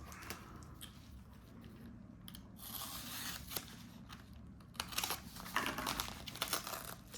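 A paper envelope being opened by hand, with close, irregular crinkling and tearing paper that grows louder and busier toward the end.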